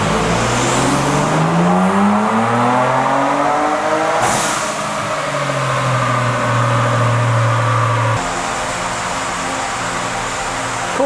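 A tuned Ford Bronco Raptor with a swapped ECU and downpipes runs on 91 octane during a dyno pull, its engine roaring loudly as it climbs through the revs, briefly dropping and climbing again, then settling into a steady drone.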